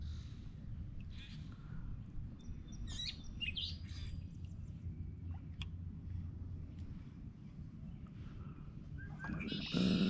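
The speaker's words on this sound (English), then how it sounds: "Where the birds are singing to us." Birds sing around lily pads on a lake during canoe bass fishing, with scattered faint chirps and tweets over a steady low background rumble, distant and soft.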